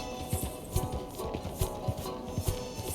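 Horse hooves clop at a steady walking rhythm in a western open-world video game, close and fairly loud, with a low musical score underneath and no talk.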